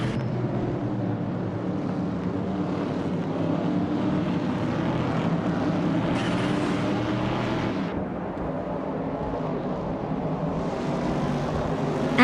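Race cars led by a 1970 Ford Mustang Boss in the Vintage Trans Am class roar together at a race start, a dense, loud, continuous engine drone with slight shifts in pitch over about twelve seconds.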